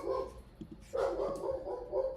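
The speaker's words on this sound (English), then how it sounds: "Sorry about the dog in the background. I don't know if you can hear him." A dog barks in short bursts in the background, a couple of muffled woofs and yips spread over a couple of seconds, fairly close but not loud.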